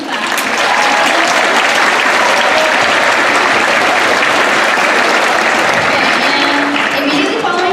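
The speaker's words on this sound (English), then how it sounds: "Please clap." A school audience at the Pierre T.F. Riggs homecoming coronation breaks into loud, sustained applause that fills the hall steadily for several seconds before tapering slightly at the end.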